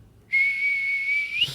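A person whistles one steady, high, piercing tone for just over a second, imitating a dog whistle, rising slightly at the end.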